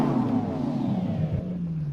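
Lamborghini Aventador SV V12 engine in Assetto Corsa, heard from the rear exterior view: a steady, loud droning rumble with layered harmonics that dips slightly near the end, with no talking.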